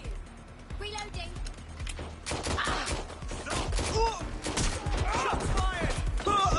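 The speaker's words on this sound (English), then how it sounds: "Shots fired!" Bursts of gunfire crack through a Watch Dogs: Legion fight, scattered sharp shots turning into dense clattering volleys, mixed with game voices calling out over the action.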